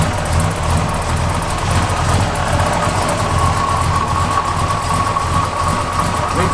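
A 1969 Chevrolet Chevelle SS muscle car idling close by, its loud, steady engine rumble carrying a loping cam rhythm, with no voices.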